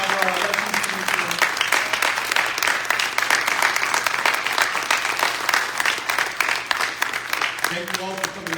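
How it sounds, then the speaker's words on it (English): An audience at a presidential debate event applauds, a dense, sustained wash of clapping with a voice speaking over it at the start and again near the end. "Big round of applause for our elections commission."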